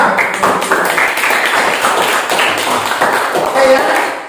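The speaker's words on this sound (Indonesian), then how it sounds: "Tepuk tangan buat kelompok 2." A classroom group claps for a student group after its presentation, a dense patter of hand claps running steadily throughout at close range, with voices murmuring underneath.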